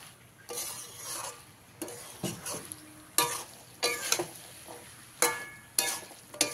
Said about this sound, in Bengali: ঘুগনির মটরটা এরকম জল থেকে ছেঁকে নিয়ে মশলার সঙ্গে ভালো করে মিশিয়ে কষিয়ে নিতে হবে